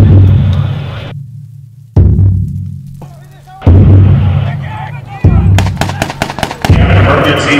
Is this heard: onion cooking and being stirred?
no